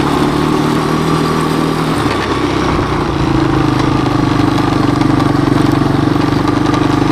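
A 1986 Honda TRX200SX ATV engine runs steady and loud while riding, its drone dropping briefly as it shifts into second gear, then carrying on at an even pitch.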